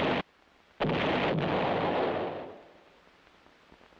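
A heavy artillery gun fires. A brief loud burst comes first, then a massive booming blast that rolls on and fades into a long, low rumble, all heard up close.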